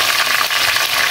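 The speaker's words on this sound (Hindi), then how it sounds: "ये देखें चिकन हमारा प्याज और ऑयल में फ्राई हो रहा है" Chicken pieces fry in onions and oil in a karahi, a loud close crackling sizzle with bubbling, steady throughout the brief moment with no voices.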